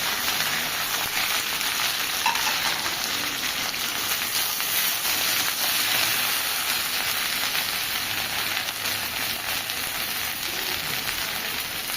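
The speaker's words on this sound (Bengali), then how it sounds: "এই লঙ্কাগুলো ভাজা হয়ে গেছে। এবার আমি ভেন্ডিগুলো দিয়ে দিচ্ছি।" Okra fries in a pan with chillies, making a steady, dense hiss of sizzling oil that holds evenly throughout without pauses.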